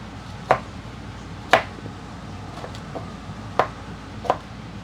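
Five spaced, crisp chops of a big knife cutting food on a board at a campsite, each thud distinct and close against a quiet background.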